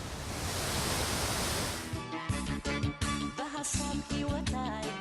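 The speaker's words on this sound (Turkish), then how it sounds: "Mavi Nil, Bahirdar'da büyülü bir güzellikteki şelalelerden dökülerek yoluna devam ediyor" The Blue Nile falls near Bahir Dar, Ethiopia, pour with a steady, loud broadband roar of crashing water for about two seconds before music abruptly takes over.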